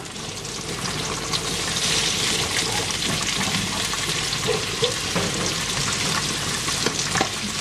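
Shallots stir-frying in a pan give a steady, loud sizzle and crackle with occasional scraping from stirring, continuous with no voices.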